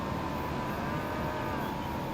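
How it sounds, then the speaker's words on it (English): Cattle low in a Farming Simulator farm setting, a steady lowing drawn out over a constant background drone, with no talk. "they got cows in their front yard"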